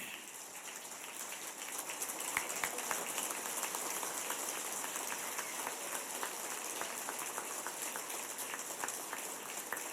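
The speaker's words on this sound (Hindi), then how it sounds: "इनके लिए खड़े होकर ताली बजाइए।" A seated audience stands and claps at a speech, a dense, steady wash of applause that holds evenly throughout.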